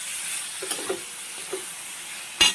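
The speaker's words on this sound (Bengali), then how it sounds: "এবারে কাঁচা কাঁচা মাছগুলো অ্যাড করছি।" Raw small fish dropped into a pan of frying ridge gourd and spices, giving a steady close sizzle with a few soft stirring bumps and a sharp clatter at the end.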